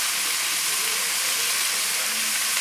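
Chicken sauce with stock and white wine simmering in a pan: a steady, even hiss and sizzle that holds without a break throughout, fairly loud and close.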